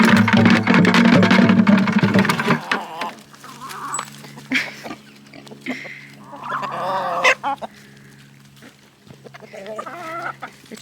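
Chickens clucking and squawking on a farm during milking chores, several loud calls at first, then scattered softer clucks over a steady low hum from nearby equipment.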